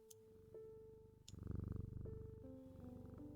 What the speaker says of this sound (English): And listen to the purring sounds.